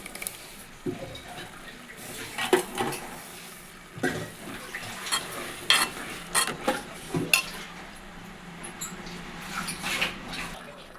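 A spoon scrapes and stirs through kurma masala and yogurt in a pan, with irregular wet squelches and metallic clinks that come and go close by, and no talking.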